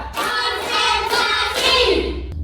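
A class of students claps hands together in a set clap pattern, a dense burst of near, loud clapping that runs unbroken for about two seconds before it cuts off sharply.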